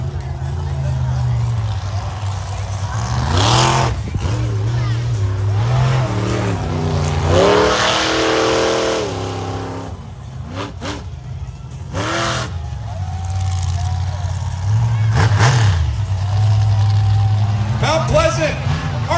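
Monster truck engine revving on an outdoor arena track at a Mount Pleasant, Michigan show, loud sustained roars rising and falling over crowd babble, with an announcer speaking throughout.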